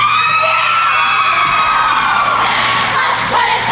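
A loud crowd at a 1997 competitive cheerleading finals cheers and screams continuously, high-pitched shrieks and shouts from many voices blending into a sustained roar that swells toward the end.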